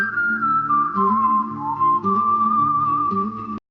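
Melodic whistling carrying a Western film theme, a clear sustained whistled tune over a low guitar and orchestral backing.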